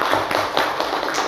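A university faculty audience gives a round of applause: dense, steady clapping that holds at full strength for the whole moment, with no voices over it.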